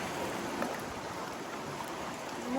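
Water sloshing and splashing steadily as someone moves about in a rocky cave pool, a continuous wet churning with faint drips, fairly close and without speech.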